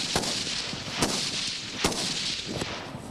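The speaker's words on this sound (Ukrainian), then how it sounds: "Отримують по 8 патронів, кожний курсант робить 3 одиночних постріли і 5 чергою." Four sharp, evenly spaced gunshots crack at a shooting range during cadet firearms training, heard at some distance over steady outdoor background noise, with no talking.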